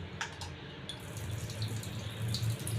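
A hilsa fish is washed under running water in a kitchen, a close steady trickle and splash of water with small drips throughout.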